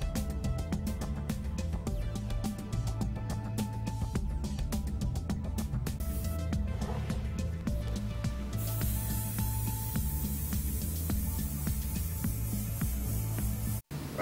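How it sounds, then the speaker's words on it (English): An airbrush sprays paint onto a monster mask with a steady close hiss, broken by short trigger bursts and brief pauses, with no talk. "You can determine the lines that you're going to create by bringing the airbrush back and forth"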